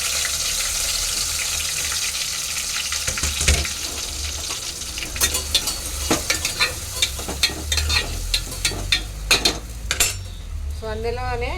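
Tomatoes added to hot oil for a dry fish brinjal curry sizzle steadily in the pan, with a spoon or spatula scraping and clinking against the metal in a quick series of taps.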